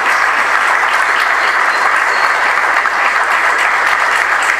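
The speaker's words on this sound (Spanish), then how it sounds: "Un aplauso, por favor." Audience applause at a municipal cabinet swearing-in ceremony, a loud, dense, steady clapping from a crowd that fills the room without pause and with no talking over it.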